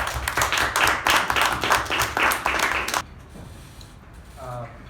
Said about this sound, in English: So please help me welcome Toastmaster Gaurav with a huge round of applause.